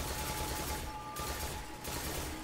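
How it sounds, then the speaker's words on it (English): Monte Carlo auto rifle in Destiny: The Taken King, fired with the trigger held down on the PvP map Crossroads, producing a steady, dense stream of rapid automatic shots that stays loud and close throughout. "I change over to the Monte Carlo auto rifle, I hold down the trigger"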